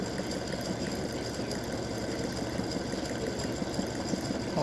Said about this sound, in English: it's going to go around now and do a satin stitching around the star to secure